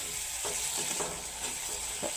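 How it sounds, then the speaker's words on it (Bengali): Spices frying in oil for a village-style potato chorchori, giving a steady close sizzle with a few soft stirring scrapes and no talk. "মশলা এখন ভাজা হয়ে গেছে, এসান কষা নিয়ে গেছে, এখন তুমি তেল ছাড়া আরম্ভ হয়ে গেছে"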